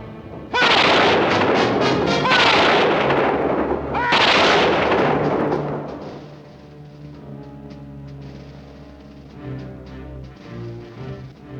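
Gunfire answering an order to fire: a loud sharp volley, a second burst about two seconds later and a third heavy volley near four seconds, each followed by a long rumbling decay that fades into quieter ringing.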